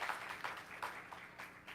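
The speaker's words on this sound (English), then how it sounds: "Let's give them a round of applause." Applause from a gathered audience at an evening virtual community report: a faint, brief wash of clapping with no voices over it.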